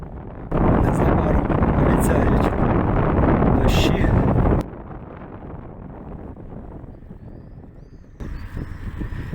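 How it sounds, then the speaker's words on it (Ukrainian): Strong wind on a street buffets the microphone with a loud, rough rumble that eases after a few seconds into a softer, steady blowing. "Вітер дме, думаю, що відео буде не дуже якісним."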